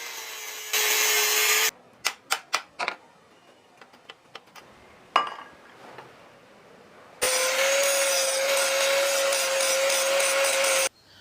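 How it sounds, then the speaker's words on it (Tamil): Metal tube at a bicycle bottom bracket is cut and filed: a steady loud power-tool whine, then a run of sharp rhythmic rasping strokes and taps, followed by another long sustained grinding cut, with no talking. "இப்போ இந்த பாட்டம் பிராக்கெட்ல எக்ஸ்ட்ரா அந்த டியூபை கட் பண்ணி எடுத்து நல்லா தேய்ச்சி அப்படியே ஃபைன் பண்ணி எடுத்துக்கிறேன்"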